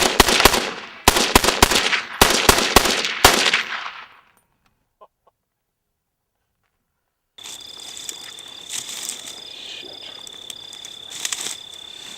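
Rapid bursts of gunfire crack out in quick repeated volleys for several seconds, then give way to near silence, followed by steady insect-like buzzing with faint intermittent clicks, all without speech.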